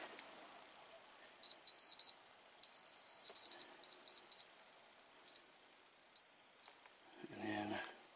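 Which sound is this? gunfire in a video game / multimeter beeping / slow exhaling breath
multimeter beeping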